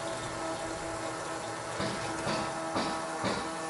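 A small pump transfers liquid during a project on a 1989 7.3 IDI diesel, giving a continuous watery flow with a few louder gushing pulses.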